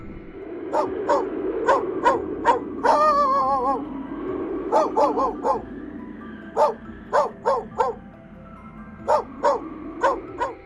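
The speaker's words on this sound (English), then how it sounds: "The dog barks and lunges, trying to defend itself, but the wolves are relentless." A dog under attack by wolves in the wild barks in a rapid series of sharp, loud, close barks, broken midway by a drawn-out whining yelp, over a low rumbling background.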